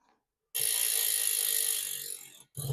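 A BMX cassette rear wheel with a bronze chrome guard, right-hand drive, spins freely and its ratchet gives a dense, steady, loud buzz of rapid clicks that tapers off, then briefly starts again.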